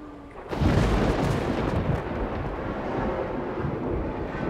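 A thunderclap from a lightning strike breaks in abruptly with a sharp crack, then rolls on as a loud, broad rumble that stays heavy and steady to the end.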